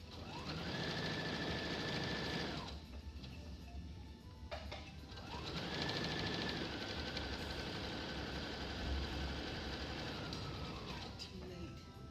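A home sewing machine runs a seam on a New Look D0815 garment in two long, steady motor whirs, stopping briefly between them, with someone talking quietly alongside.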